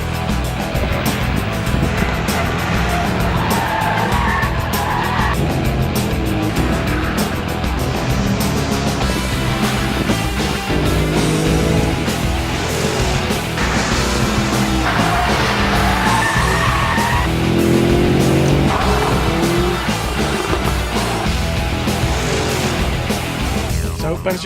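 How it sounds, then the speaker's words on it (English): A Mercedes SLS with a front-mounted, naturally aspirated 552-horsepower V8 is driven hard around a race track, its engine roaring continuously with tyre squeals and skidding through the corners, loud and close throughout. "So Ben's just been out in the Mercedes SLS."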